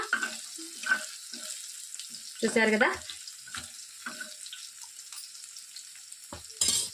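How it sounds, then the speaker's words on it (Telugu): Onion-chili paste drops into hot oil beside ivy gourd pieces in a pan and gives a short, sharp burst of sizzling. Quieter clinks and brief talk come before and after it. "ఈ ఆయిల్లోకి మనం మిక్సీ పట్టుకున్నటువంటి ఈ ఉల్లికారాన్ని వేసేసుకోవాలి"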